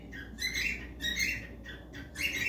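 Outdoors, a bird repeats short, bright chirping phrases in three or four bursts over a low steady background hum.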